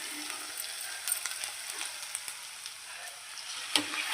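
Steady hot-oil sizzle of mustard seeds, cumin, green and dried red chilies, mint, coriander, turmeric and ginger garlic paste frying in oil for a tomato curry, close and continuous with a few small pops and stirring clicks.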